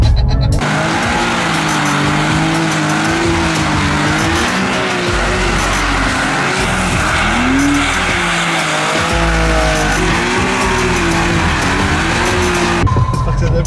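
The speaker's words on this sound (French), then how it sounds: "C'est pas tous les jours que tu peux faire du drift dans un environnement contrôlé avec un gars qui sait vraiment ce qu'il fait" A BMW M car drifts in a controlled track session, its engine roaring steadily while tires squeal in long wavering howls for over twelve seconds, loud and close from inside the cabin.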